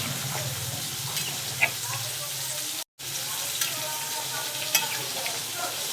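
Gravy sizzles and fries in a pan while boiled milk is added and stirred in, a steady close hiss with soft scraping stirs and a brief dropout midway.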